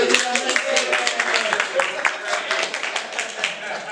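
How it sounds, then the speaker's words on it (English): A crowd at a business camp claps steadily in dense, continuous applause with scattered voices mixed in, lasting the whole stretch. "Let's give team number 1 and team number 2 a round of applause"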